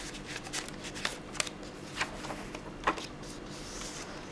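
Paper pages of an Outback-themed handmade journal, filled with invoice paper and offcuts, are flipped one after another. The result is soft, close rustling broken by a few crisp flicks, quiet throughout and with no voices.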